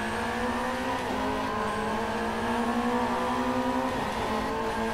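A race car engine in the Drive Club VR racing game drones steadily and loudly for the whole stretch, its pitch holding level with slight rises and dips in revs.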